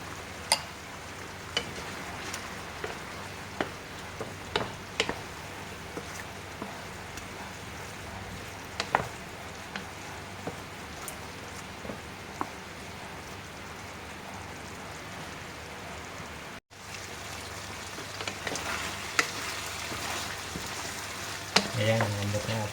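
Chicken adobo in coconut milk with papaya simmers and sizzles steadily in a pan, a soft continuous bubbling hiss broken by occasional clicks and stirring taps, close and moderately quiet.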